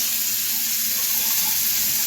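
Water running from a shower nozzle, a loud, steady, close-up hiss of spray that holds unchanged for the whole two seconds with no voices.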